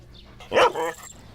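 One close dog bark from a Tamil movie scene, a short sharp yelp with a brief tail and no talk around it.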